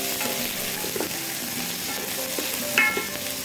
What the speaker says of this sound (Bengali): এটা একটু ক্যারামেলাইজ করে আমরা এটাকে ভেজে নেব